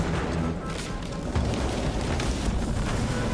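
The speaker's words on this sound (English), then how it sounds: "Oh god, everything's exploding." Explosions in The Outer Worlds 2 as an expanding rift sets everything off: dense, continuous rumbling blasts with overlapping booms, loud and close, swelling slightly partway through.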